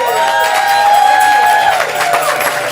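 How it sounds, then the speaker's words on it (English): Crowd applause and cheering from the audience at a live improv comedy show, a steady, loud wash of clapping and voices that holds for the whole stretch. "So big applause for Captain Dr. Dave."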